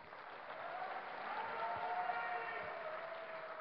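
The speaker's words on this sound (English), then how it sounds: "give a cheer for Nama!" Audience applause at a DreamHack 2010 StarCraft II match in a large hall, a soft, distant, steady patter of clapping with faint crowd murmur.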